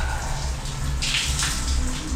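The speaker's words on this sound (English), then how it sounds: "There's some running water from the shower." A shower in Mombasa, Kenya runs steadily, a loud, close hiss of falling water with a brief surge in spray partway through.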